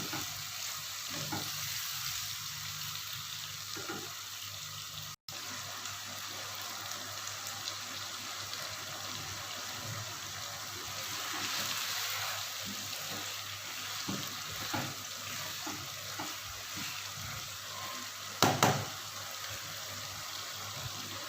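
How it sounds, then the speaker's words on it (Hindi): Okra and potatoes sizzle steadily in a frying pan while a utensil stirs them, adding soft scrapes and occasional knocks over about twenty seconds with no speech. "इसको अच्छी तरह हम मिलाते हैं।"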